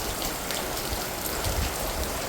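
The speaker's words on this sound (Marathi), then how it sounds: "गावाला मस्त पाऊस आला जोरात एकदम खूप" Heavy monsoon rain pours onto a village courtyard in a dense, steady hiss with no pauses or voices over the short stretch.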